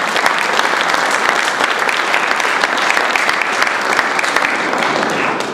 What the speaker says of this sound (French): donc vous pouvez applaudir mes amis espagnols